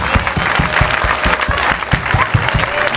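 A church congregation bursts into sustained applause acclaiming Jesus Christ, steady rhythmic clapping from many hands filling the room for several seconds, with cheering voices faintly mixed in.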